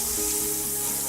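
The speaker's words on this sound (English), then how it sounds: "you got that sizzle going on" Butter and avocado oil sizzle in a skillet, a dense, loud, continuous frying hiss close to the pan with a low steady hum beneath, no voices.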